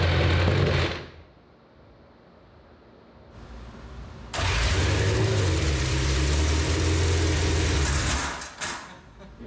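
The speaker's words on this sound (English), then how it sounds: "That was the car running." IndyCar engine with a turbo, run on a stand, first loud, then dropping to a quieter idle-like hum, then surging back into a loud sustained roar before cutting off near the end.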